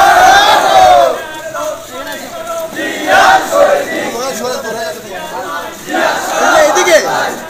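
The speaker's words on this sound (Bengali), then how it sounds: "ছাত্র দলের প্রোগ্রাম এখানে মোদির স্লোগান আসছে কেন বুঝলাম না" A crowd chanting slogans at a student party rally, loud massed voices rising and falling in repeated waves with shouting and chatter throughout.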